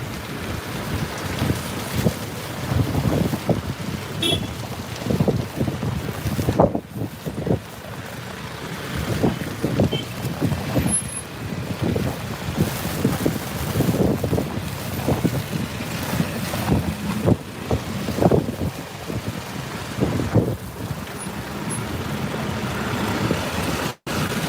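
Strong wind gusts through a city centre during a snowstorm in Elbasan, Albania, buffeting the microphone in loud, irregular bursts that build and ease without pause.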